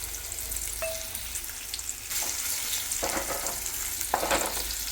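Sliced soaked dates frying in hot ghee give a steady, close sizzle with faint stirring scrapes and small bursts of crackle, with no voices.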